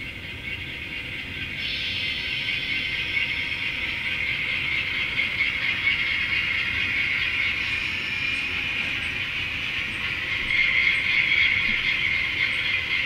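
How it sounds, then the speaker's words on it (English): Train moving along the railway during WJSA-39 operation, a steady rolling rumble with a high rail squeal that swells slightly toward the end, heard alone without talk. "I'm going to couple on back on this train."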